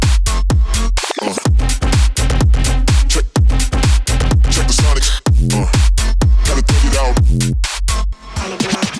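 Full music mix, a pop song with steady beat and vocals, played through a Neve master bus transformer at a subtle setting, loud and continuous throughout.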